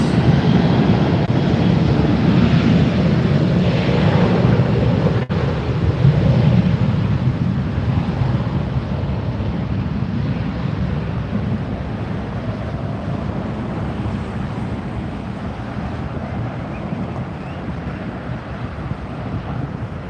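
A Southwest airliner roars overhead at Los Angeles International Airport, a loud, broad jet rumble that fades slowly over twenty seconds, with wind buffeting the microphone throughout.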